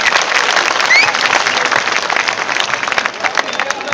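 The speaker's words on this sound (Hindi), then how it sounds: "एक बार उन साथियों के लिए जोरदार अभिनंदन और तालियां।" A crowd at an old-pension-scheme rally claps loudly and energetically, with many close, crisp hand claps in a busy, uneven rhythm and some crowd noise mixed in, continuing for the whole stretch.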